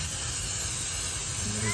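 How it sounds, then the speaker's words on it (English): Liquid sprays onto a whole pork shoulder picnic on a smoker in one steady, loud hiss that runs throughout without a break, with no talk. "one thing I am gonna do is spray this picnic"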